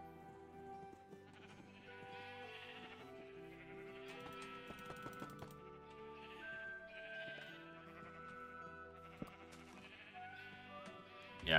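Sheep bleating in a farming game, heard over a steady bed of tonal background music, with the calls recurring through the passage and staying at a moderate level.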